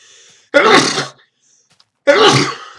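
A person sneezes twice at close range, two sharp bursts about a second and a half apart with quiet between them.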